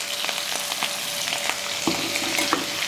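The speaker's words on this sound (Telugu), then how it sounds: "ఈ తెల్ల ఉల్లిపాయలు ముక్కలు రంగు మారేదాకా మాత్రం వేపుకోండి" White onion pieces sizzle and crackle in a pan while frying for a broad bean stir-fry, with a steady hiss and occasional stirring scrapes close by.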